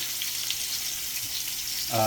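A steady hiss of meat searing in a hot frying pan, close and continuous, with a brief voice at the end.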